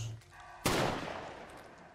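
A single sharp gunshot from the video game Call of Duty: Modern Warfare Remastered cracks out, then its echo tails off slowly. Just before it there is a faint bit of background noise.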